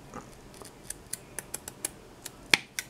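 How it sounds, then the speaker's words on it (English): Scissors snip through ribbon for a handmade hair bow, giving about a dozen crisp, close clicks at an uneven pace, with no talking. "someone needs to sharpen these scissors, because these scissors are really crappy"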